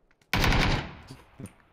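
A single loud, close gunshot blast from a PUBG match rings out and decays over about half a second, followed by faint smaller pops.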